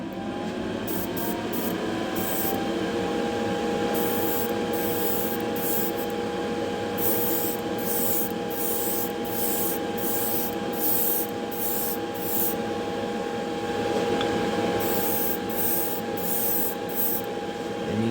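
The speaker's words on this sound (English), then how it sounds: "once I turn this on, you'll hear the fan running" Spray booth extraction fan running steadily while paint is sprayed onto a Hot Wheels Redline model car, a continuous loud whooshing hum with rhythmic bursts of airbrush hiss on top, no voices.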